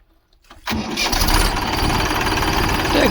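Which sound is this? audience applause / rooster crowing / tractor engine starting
tractor engine starting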